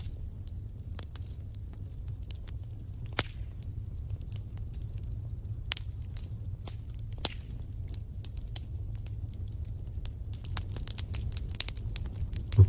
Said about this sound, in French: Vous écoutez le bois craquer.